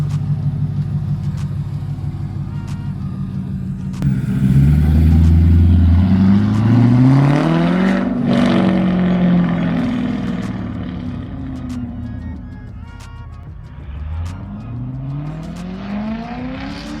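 C5 Corvette driving with its muffler removed, a loud, close V8 exhaust rumble that rises and falls through several revs and gear changes, deep and throaty throughout.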